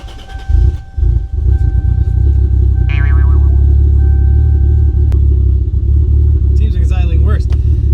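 A Toyota Supra MK4 A80 turbo engine idles roughly and loudly up close, a deep lumpy rumble that holds steady throughout, with a few brief squeaks and chirps over it.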